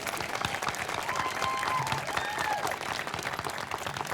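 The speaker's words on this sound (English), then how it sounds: "Can we clap for Jimena?" Applause from the audience at an elementary school groundbreaking ceremony, steady dense clapping filling the whole stretch with a few cheers mixed in.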